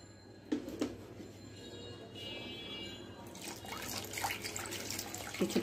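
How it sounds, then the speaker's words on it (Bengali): Water poured into a bowl of beaten egg and date-palm jaggery batter, a short trickling splash after a couple of faint clinks, fairly quiet and close. "কিছুটা পানি দিলাম।"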